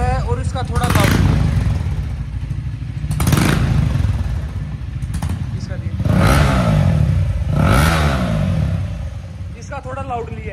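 A Royal Enfield Hunter 350 motorcycle with its exhaust silencer removed idles loudly and revs in several sharp bursts, close by, with people talking over the engine.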